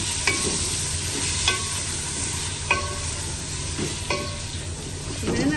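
Meat frying in a pot with turmeric and dried coriander for gobi gosht, a steady crackling sizzle broken by regular scraping stirs of a spoon about every second or so, close and continuous.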